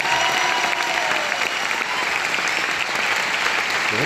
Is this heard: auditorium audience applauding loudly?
yes